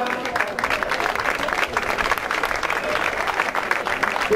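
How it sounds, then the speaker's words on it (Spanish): An audience at a vertical trail mountain race event on Tenerife applauds a race category, with steady clapping and crowd noise running throughout. "Un aplauso a esta categoría."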